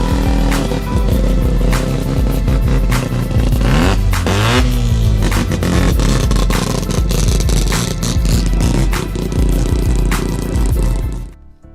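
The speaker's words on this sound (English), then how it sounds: "I haven't even shown you guys a clip of what these rotary motors sound like fixed up" A yellow Mazda RX-3 with a rotary engine revs loudly and repeatedly, buzzing climbs and drops over background music, close and sustained until it cuts off.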